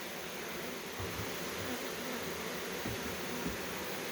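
A swarm of honey bees moving into a hive makes a faint, steady buzzing hum that stays soft and continuous.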